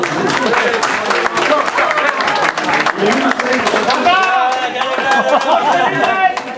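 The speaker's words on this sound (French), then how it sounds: "nous pouvons applaudir bien fort" Applause and crowd chatter at a light-hearted first-aid lesson event, with clapping mixed with lively voices and people talking over it throughout.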